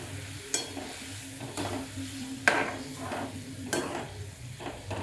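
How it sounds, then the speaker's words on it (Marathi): Hot water poured into a green chickpea curry cooking in a pan, sizzling steadily with a few sharp clinks and scrapes of stirring throughout, close and moderately loud, with no voices. "पाणी मी गरम केले ते ओतते."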